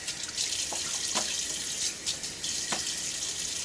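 Water runs steadily from a bathroom tap into a sink while a man shaves with a Gillette Aristocrat safety razor, a continuous hiss with a few brief splashes of hands wetting the face.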